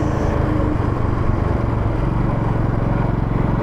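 A Royal Enfield 500 Bullet motorcycle engine under a little throttle on a road through Cheriton in the UK, giving a loud, close, continuous rumbling drone that holds steady for the whole stretch with no talk.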